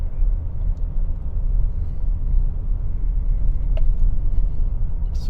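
Car rolling through a residential area of Smith Center, Kansas, with a steady low road rumble and engine drone held close throughout, and a faint brief squeak near the end.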